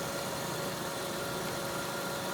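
A warmed-up 2002 Kia Sedona engine idles quietly and evenly, a steady low hum with no other sounds.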